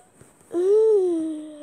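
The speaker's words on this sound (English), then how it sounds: "I just yawned because it's really in the morning." A person gives one drawn-out, voiced yawn that rises and then sags, close to the microphone with nothing else around it.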